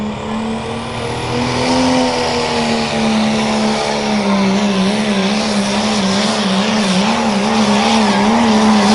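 A 1993 Dodge Ram pulling truck roars at full throttle during a truck pull at a fair, its loud, sustained engine note wavering and climbing as it strains down the track, close and without pause.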